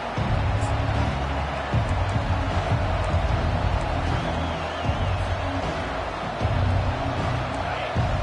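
Stadium crowd in the College Football 25 video game, with the home fans at NC State giving the visitors a loud welcome. The roar is steady and dense, with swelling cheers and faint commentary under it.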